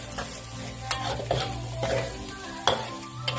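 Wild frog curry stir-fried in a pan, a steady close sizzle with several sharp scrapes and clinks of a spatula against the metal.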